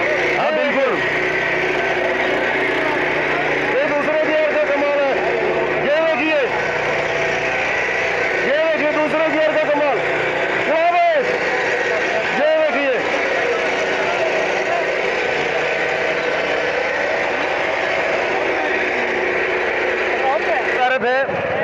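An R125 power tiller engine runs in second gear at the Ludhiana farmers' fair, a steady close mechanical drone with an idling chug, while people talk over it throughout.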